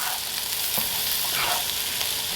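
Flour stirred into hot frying oil for a roux makes a steady, close sizzle and hiss, with faint scraping from the stirring and no voices.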